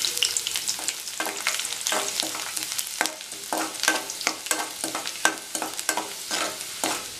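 Chopped garlic sautés in oil with mustard seeds and red chillies for a brinjal gravy, a constant close sizzle broken by frequent rapid spoon clatters and scrapes against the pan.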